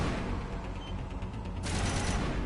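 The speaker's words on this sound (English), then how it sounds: "I'll keep firing." Sustained, dense gunfire from the video game Mass Effect 1 rattles continuously, growing brighter and harsher about two-thirds of the way through. No one speaks.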